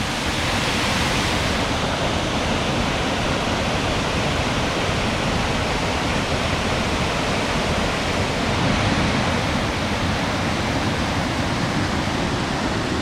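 A waterfall cutting through rock on the Ricketts Glen Falls Trail roars in a steady, loud, full wash of rushing water that never lets up, close at hand and without voices.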